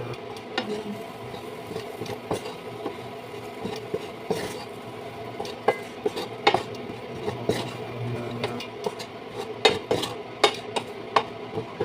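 A spoon stirs chickpea stew in a pot, scraping and clinking against the sides in an irregular rhythm, with sharper knocks every second or so over a low, steady background.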